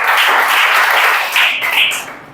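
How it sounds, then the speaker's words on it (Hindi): A classroom of students breaks into a short burst of clapping and applause that swells, then fades out after a couple of seconds. "ताली बजाओ जी"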